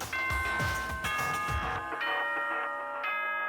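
School announcement chime from the Danganronpa video game: a short sequence of bright electronic ding-dong bell tones over a soft musical backdrop, clear and alone with no talking.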